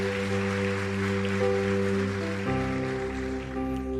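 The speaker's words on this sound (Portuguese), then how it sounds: "Você pode aplaudir o Senhor?" A church congregation claps together during a worship service, a steady wash of applause running beneath loud sustained organ or keyboard chords that change partway through.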